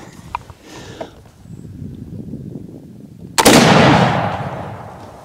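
A single loud muzzle-loader gunshot with 90 grains of Swiss black powder, fired at a steel target on a range, bursts out sharply after a few seconds of quiet outdoor background and rings off in a long decaying roar.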